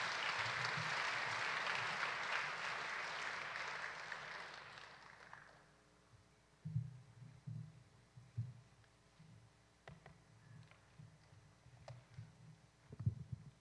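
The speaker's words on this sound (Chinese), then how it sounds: "我们掌声为神的老仆人在这边释放信息" Audience applause for an elderly pastor at an evening church gathering, a steady wash of clapping for about five seconds that fades out, followed by quieter scattered sounds and low murmurs.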